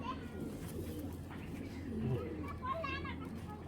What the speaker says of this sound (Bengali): খুব সুন্দর এক জোড়া লাল পাত্তি কবুতর